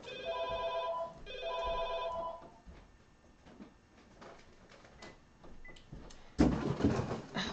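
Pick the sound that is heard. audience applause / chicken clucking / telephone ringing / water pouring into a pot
telephone ringing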